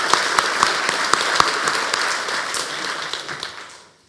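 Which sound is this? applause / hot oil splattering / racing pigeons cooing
applause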